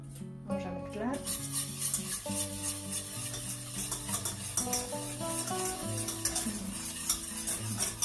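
Egg yolks and sugar are whisked together in a bowl for a traditional custard cream, producing quick, repeated scraping and clinking strokes against the bowl, close and continuous throughout.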